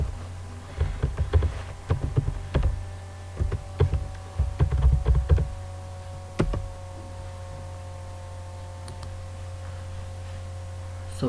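Keys on a computer keyboard tapped in a short burst of clicks to enter a password, near and clear over a steady low electrical hum, then a few isolated key taps after a pause.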